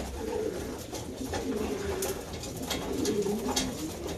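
Several racing pigeons cooing softly in low, throaty murmurs, overlapping continuously at close range with a faint background hum.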